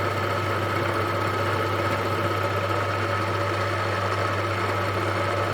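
A milling machine cutting a steel triple tree yoke for a custom Triumph motorcycle hums steadily and loudly, its low motor drone holding constant under a dense, even cutting noise throughout.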